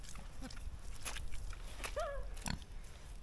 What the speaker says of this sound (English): There's a massive pig here.